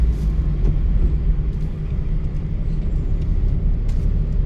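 A car rumbles along in second and third gear during a driving lesson, a steady, loud low engine drone that holds without pause.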